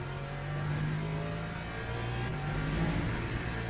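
An LMP3 prototype race car in the Le Mans Ultimate sim racing game drones with a steady engine tone that swells slightly as it revs, sustained and fairly close with no talk.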